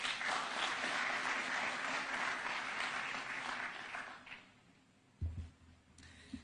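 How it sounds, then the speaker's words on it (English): An audience at a closing ceremony at State House, Nairobi, applauds to welcome someone speaker, a broad sustained clapping that fades out, followed by a few louder nearby knocks and bumps. "Let's welcome her with a clap"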